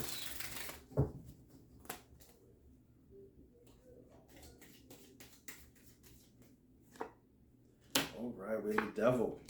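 Tarot cards are shuffled and drawn: soft papery riffles, taps and flicks come in scattered bursts, with a louder flurry of shuffling near the end. The handling is close and fairly quiet, and no one speaks.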